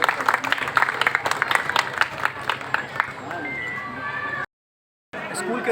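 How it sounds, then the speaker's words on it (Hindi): An audience at a school graduation day claps in a dense, lively patter that fades after a few seconds, followed by a tonal sound and a brief cut to silence. "आप सभी से रिक्वेस्ट है एक बार जोरदार तालियां हो जाएं।"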